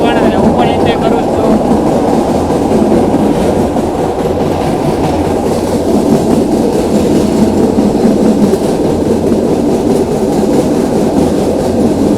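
A meter gauge train between Junagadh and Veraval roars steadily from inside, with loud clattering wheels and rattling carriages; a voice is heard under the noise.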